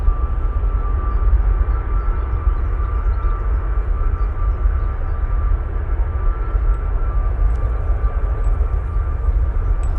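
A Boeing Dreamliner departs Manchester Airport toward Paphos, its jet engines making a steady, loud rumble with a sustained whine that holds for the whole stretch.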